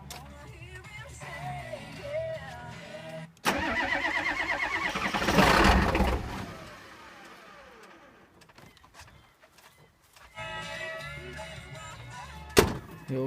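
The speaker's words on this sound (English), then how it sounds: "Cold start." A cold start of a 7.3 diesel engine with music playing nearby: quiet background, then a loud burst of cranking and engine noise for a few seconds that fades to a low rumble, followed by more music and a sharp bang near the end.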